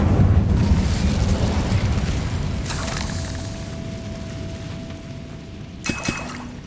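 Incendio fire spell cast in the Hogwarts Legacy video game, a rumbling fiery roar that swells up loud at the start and fades, then short bursts and pops near the end, no talking.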